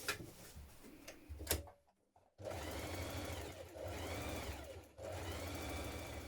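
Sewing machine stitching a yoke piece to the back lining of a winter coat, running in steady rapid bursts with a short pause, close and alone without talk.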